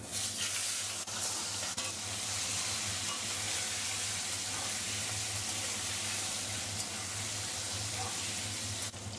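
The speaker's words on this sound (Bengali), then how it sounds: "মাছ ভাজার জন্য সরষের তেল দিয়ে দেবো" Shing fish frying in hot mustard oil in a heated kadai: a steady, close, hissing sizzle runs throughout with faint stirring scrapes, and there is no talking.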